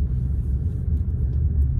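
A new car being driven on the road, heard from inside as a steady low road rumble and engine hum, continuous and fairly loud with no other sounds.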